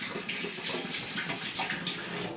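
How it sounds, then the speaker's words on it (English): Spring water pours steadily from a bottle into a pan during home brewing of a fruit milkshake stout, a continuous splashing gush lasting a couple of seconds, close and fairly loud. "I'm going to actually pour this into the pan."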